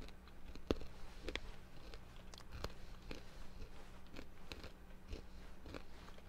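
Someone chewing a mouthful of food laced with wasabi, close soft crunches and wet bites repeating irregularly over a quiet background, no talk.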